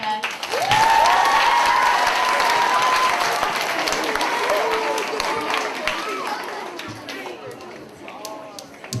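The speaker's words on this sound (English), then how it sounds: "And we would like a round of applause for Ms. Hurlichek." Audience at a school grade 8 assembly breaks into sustained applause, loud and dense at first, then gradually thinning toward the end, with a voice briefly rising over the clapping.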